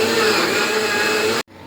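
A kitchen mixer grinder blending juice, a loud steady motor whir that cuts off abruptly near the end.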